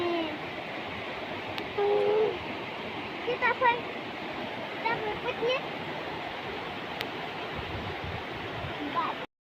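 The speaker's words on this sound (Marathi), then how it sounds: "बघा मित्रांनो किती पाणी आलेलं आहे. रात्री अजून पाऊस पडलाय मोठा." Heavy rush of rain-swollen water after a big overnight downpour near the Ambachandi temple, a steady broadband roar filling the whole stretch, with people talking and calling out faintly over it.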